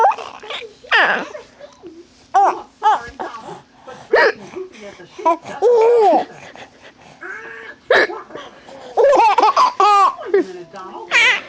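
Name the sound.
woman hiccuping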